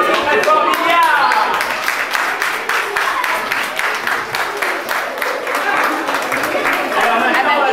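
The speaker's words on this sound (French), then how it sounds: "On applaudit très fort Milliard." An audience at a children's Easter event in a French village applauds a child quiz winner, dense sustained clapping from a crowd across the whole stretch with some voices mixed in.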